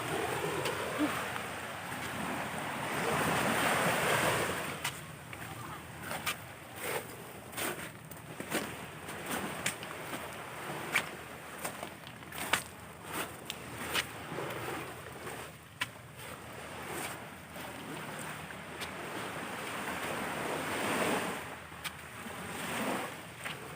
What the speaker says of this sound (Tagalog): Dito tayo sa tabing dagat. By sa mga tawag doon, talbisan ng alon.